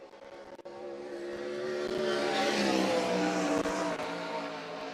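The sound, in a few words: 410 sprint car on a qualifying lap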